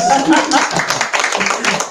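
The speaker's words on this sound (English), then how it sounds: "Now another round of applause" Audience applause at a bookstore author event, a short burst of close, fairly loud clapping from a small crowd that fades unevenly.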